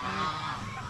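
A goose on a farm honks in one short, loud, nasal blast heard up close.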